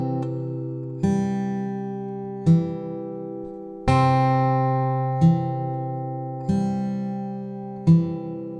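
An acoustic guitar is fingerpicked slowly, with single plucked notes spaced about a second apart, each ringing out warmly before the next. It is close, quiet and unaccompanied.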